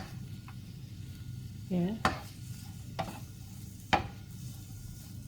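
Vegetable spring roll filling tossed in a pan over low heat, with a wooden spoon scraping and clinking against the pan in a few sharp strokes over a soft background sizzle; a brief voice is heard.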